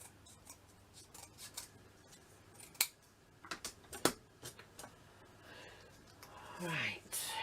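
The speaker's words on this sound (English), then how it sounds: "Trim this off so it's even." Paper is trimmed for a Christmas village craft piece, with a run of light scissor snips and rustling that builds to a couple of sharper cuts, close and fairly quiet, with faint talk around it.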